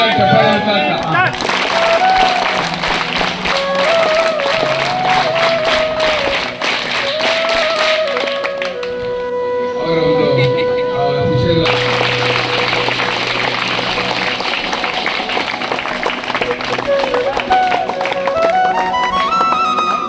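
Audience applause at a retirement felicitation for a government high school mathematics teacher, sustained clapping through most of the stretch with a loud crowd, someone speaking over it and music in the background.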